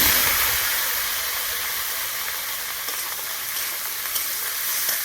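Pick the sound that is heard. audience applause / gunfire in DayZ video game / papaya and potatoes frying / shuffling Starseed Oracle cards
papaya and potatoes frying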